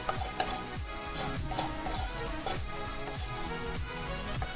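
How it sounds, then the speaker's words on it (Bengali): Ground cumin and ginger paste are sautéed and stirred in a pan for an aloo paneer curry. A steady sizzle runs throughout, with a regular scrape and clatter of the spoon repeating roughly every half second. "খুব ভালো করে আমি কষে নিচ্ছি।"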